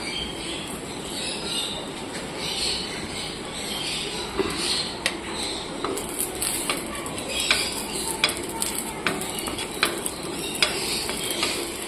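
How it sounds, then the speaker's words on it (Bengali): Green chillies and garlic with nigella seeds dry-roast in a pan without oil, giving a faint crackle and a run of regular light taps and scrapes from stirring, close up, with no one speaking. "এবার কাঁচা লঙ্কা আর রসুনটাকে তেলে নেব শুকনো খোলাতেই টালব সঙ্গে একটু কালো জিরে দিয়ে দেবো"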